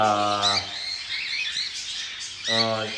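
Pet birds in an aviary give harsh, harmonic squawks, one burst at the start and another near the end, with fainter chirps and background chatter between them.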